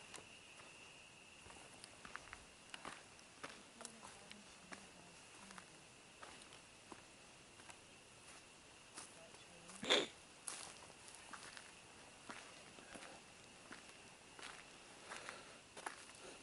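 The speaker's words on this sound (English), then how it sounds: "My footsteps near the digital recorder." Soft, irregular footsteps shuffling near a digital recorder in a quiet room, faint steady hum beneath, with one sharper knock midway.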